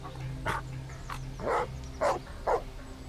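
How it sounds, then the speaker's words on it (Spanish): A dog barks loudly in several separate sharp barks, close and clear over a quiet background with a faint low hum. "Su fuerte ladrido atrajo la atención del anciano"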